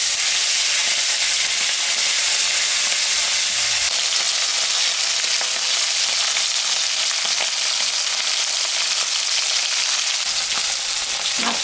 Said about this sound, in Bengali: আমি কুমড়ার ছক্কা করার জন্য ইলিশ মাছ এনেছি, খোকা ইলিশ। এটা এখন আমি ভাজে নেব।